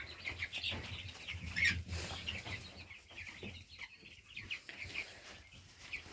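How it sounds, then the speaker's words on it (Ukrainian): Faint flock of young roosters clucking and crowing in a noisy coop, several birds overlapping at a distance, with occasional wing flutters. "Бачите, скільки півників?"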